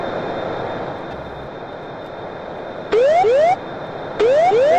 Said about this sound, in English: I didn't see my jet fly over you